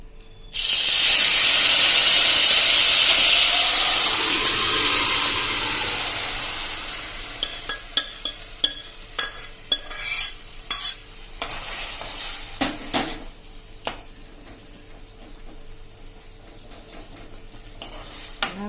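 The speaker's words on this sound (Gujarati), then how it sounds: "હવે આમાં વધેલા ઘીમાં હજી આપણે 1 ચમચી જેવું ઘી નાખી દેશું અને હવે આપણે આ જે ઘઉં બાફેલા છે એ નાખી દેશું" Boiled wheat tipped into hot ghee bursts into a loud, hissing sizzle that slowly fades, followed by a string of sharp spoon-against-pan clatters as it is stirred, close by.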